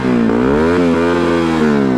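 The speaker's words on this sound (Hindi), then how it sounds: "तो चलो यार अभी करते हैं अपनी बाइक को स्टार्ट और मैं सुनाता हूँ आपको इसका एग्जॉस्ट नोट" A Kawasaki ZX10R motorcycle with an Akrapovic full-system exhaust and a dB killer fitted idles and blips loudly up close, giving a steady harmonic engine note with a few short rev rises.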